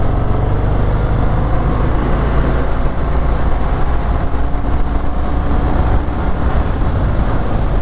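A 2020 Harley-Davidson Fat Bob motorcycle riding on twisty roads, with a loud, steady engine rumble mixed with rushing wind throughout, close and continuous.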